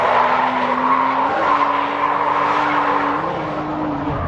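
A 90s Nissan R32 Skyline drifting, its tyres skidding in a loud, sustained squeal that wavers in pitch and steps up twice, with engine noise underneath and no voices.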